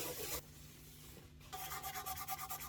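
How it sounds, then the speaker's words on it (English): Quiet, close rubbing of very fine sandpaper on violin varnish. A short stroke comes first, then a pause, then a run of quick rhythmic strokes. "I'm using very fine sandpaper"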